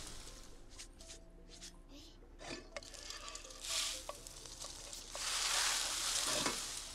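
Soft sizzling and stirring of a spinach frittata frying in a pan in The Sims 4, quiet crackles and scrapes that swell into louder hissing near the end.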